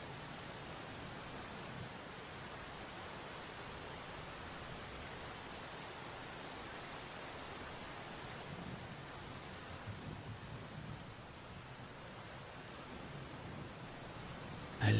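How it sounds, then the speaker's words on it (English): Rain falls as a constant soft hiss with a low rumble underneath, even and unbroken throughout, distant and fairly quiet. "I listen to the rain."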